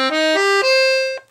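A Titano Titan De Luxe piano accordion on its bassoon register plays a short run of four reedy notes in a low, buzzy register, each note held briefly before fading out.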